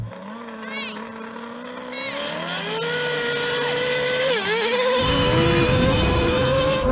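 Red Bull Formula 1 car and a modified Lamborghini revving in a drag race, a high engine whine climbing steadily in pitch, then a heavy rumbling roar joining near the end, with a person talking over it.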